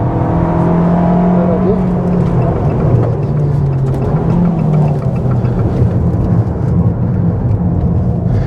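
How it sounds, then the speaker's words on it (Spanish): Abarth 695 C Competizione 2023 hatchback with 180 hp and a limited-slip differential, engine pulling hard at full throttle with traction control cutting in, a loud steady drone under continuous road and wind noise. "Ya voy gas a fondo y ahora el control de tracción le deja."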